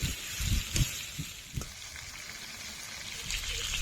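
Pangas fish pieces frying in a pan of oil make a soft, steady crackling sizzle, broken early on by a few brief knocks and scrapes.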